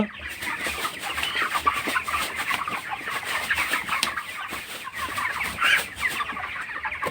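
Broiler chickens on a poultry farm, a dense flock of birds clucking and chattering continuously, with occasional wing flutters in a busy shed.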